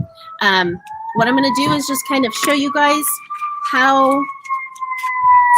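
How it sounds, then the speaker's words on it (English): An emergency vehicle siren wails steadily in the background, rising slowly in pitch, while a person talks close by. "I apologize for the sirens"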